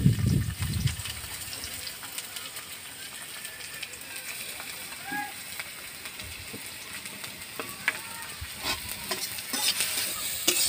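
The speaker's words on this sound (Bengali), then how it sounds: "পেঁয়াজ কুচি দিচ্ছি" Chopped onion hits hot oil in a pan, starting with a brief louder burst and settling into a steady close sizzle with stirring scrapes, while a voice speaks briefly near the start.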